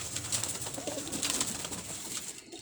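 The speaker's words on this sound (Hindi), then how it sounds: "ये सियालकोट का कबूतर देखें आप" A Sialkot pigeon coos softly at a pigeon seller's club, faint low burbling notes under steady background hiss and chatter.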